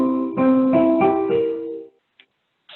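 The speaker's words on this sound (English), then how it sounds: "So, root position dominant seventh chord sounds like this." A root-position dominant seventh chord, played as a few repeated struck chords with stacked notes that ring and fade out, followed by brief quiet.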